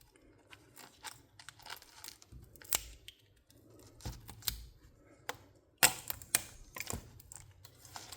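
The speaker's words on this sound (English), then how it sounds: "Take the tape off." Tape being peeled off an LCD screen during disassembly, a dry crackling, tearing rasp in uneven bursts with a few sharper snaps, close and fairly quiet, with no talking.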